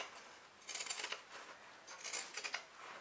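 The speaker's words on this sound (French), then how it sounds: "je vais donc découper l'excédent de tissu" Scissors snip away the excess fabric at the corners of a sewn toiletry bag. Two close, crisp bursts of cutting sound over near silence, with no voice.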